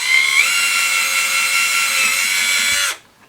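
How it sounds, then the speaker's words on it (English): A power drill boring a hole for LEDs in a flame lantern project, one steady high-pitched whine for about three seconds before it stops abruptly, close and loud, with no talking. "quickly drill a hole."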